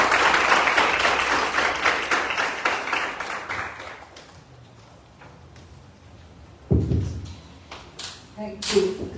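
An audience claps loudly to welcome a guest speaker at a UPSC civil services exam guidance session. The dense applause gradually thins into scattered claps, followed by a few louder knocks and taps near the end.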